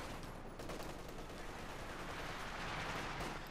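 Gunfire and machine guns from the World War II strategy game Company of Heroes 2, a faint, dense crackle of distant bursts layered into a steady battle din, no voices.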